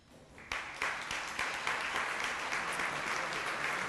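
Audience applause for a Hall of Fame inductee at an induction ceremony, starting with a few scattered claps and swelling into steady, dense clapping from a large crowd that holds through to the end.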